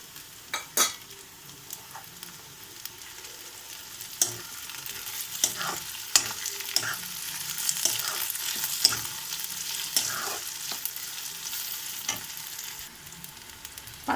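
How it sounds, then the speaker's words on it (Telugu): Green chillies, curry leaves, turmeric and ginger-garlic paste frying for egg curry, a soft steady sizzle broken by repeated clinks and scrapes of a spoon stirring the pan, no voices. "కొద్దిగా లైట్ గోల్డ్ కలర్ వచ్చే వరకు ఫ్రై చేసుకుందాము"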